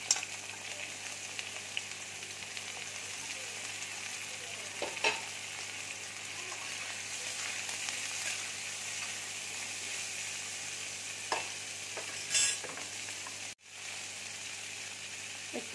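Cauliflower and potato hitting a hot pan sizzle and fry steadily, with a few scraping stirs and clinks of a utensil, fairly quiet and close, no talking.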